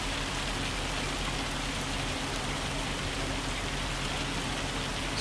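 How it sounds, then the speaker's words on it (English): Steady, dense rain pours in Farming Simulator 25 on the Riverbend Springs map, a constant broadband hiss alone with no talk over it. "I love the rain. I think it's very, very rain-like."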